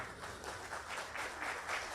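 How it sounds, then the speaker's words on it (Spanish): Conference audience applauding a congressman, a soft, steady wash of clapping from a room of people, faint and continuous without a break. "Por favor, un fuerte aplauso."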